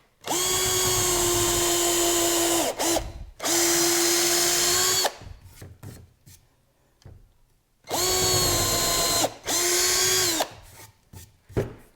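A power drill whirs loudly in several bursts, driving screws into wood, each burst ending as the screw seats, with a short clatter and handling noise between runs.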